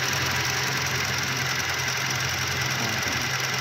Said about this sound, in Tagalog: internal engine noise